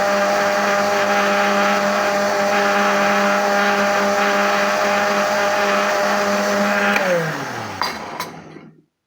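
A blender grinds tomato green chutney with a loud, steady whirring drone close up for several seconds, then winds down and stops near the end.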